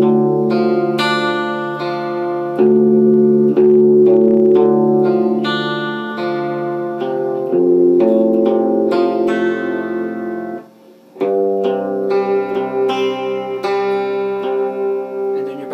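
An electric guitar run through effects plays a riff slowly, with sustained distorted chords and single notes ringing out continuously, a brief gap near the end before the playing resumes.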